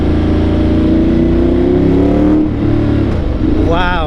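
Ducati motorcycle engine rumbling loudly nearby as it revs up and settles, with a person speaking briefly near the end.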